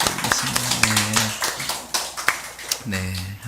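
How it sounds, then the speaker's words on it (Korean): A church congregation at a Sunday worship service applauds, with dense sharp claps close by, under talk, with a brief sustained tone near the end. "하나님께 영광의 박수 드리겠습니다."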